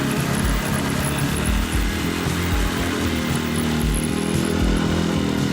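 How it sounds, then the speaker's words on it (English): A ZID Barkhan off-road motorcycle's engine runs steadily and loudly throughout, a continuous close-up mechanical drone with a throbbing low rhythm and no talk over it. "And the engine's pulling so well"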